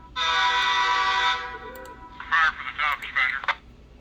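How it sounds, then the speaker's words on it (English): A Kato N-scale Amtrak P42 model locomotive with an ESU LokSound DCC sound decoder sounds its horn in one sustained, bright blast, followed by a few shorter tonal bursts. "Horn."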